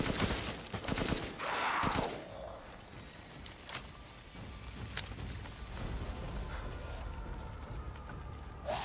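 Bursts of rapid gunfire from the player's weapon in Resident Evil Village, sharp clustered shots at the start followed by scattered single cracks over a noisy, rain-like background.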